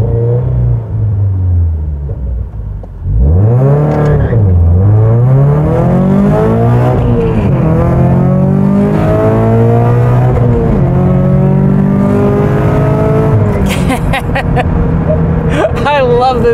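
A 2013-or-later Subaru BRZ fitted with a Cosworth Stage 2 power package accelerates hard, its engine note climbing repeatedly through the revs with shifts in between. The sound is loud and close, with a driver speaking over it.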